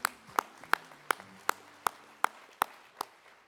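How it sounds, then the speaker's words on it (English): Applause at an awards gala in Atlanta comes through as a slow, evenly spaced run of about ten crisp claps, each sharp and distinct with quiet gaps between them. "Let's give Paul a round of applause."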